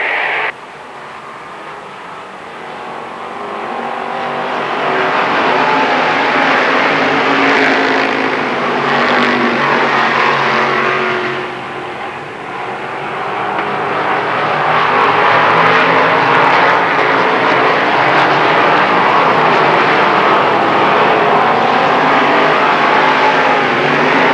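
Modified race cars roar around the Lernerville Speedway oval, a loud continuous engine drone that swells and dips slightly as the pack circulates, with no talk over it.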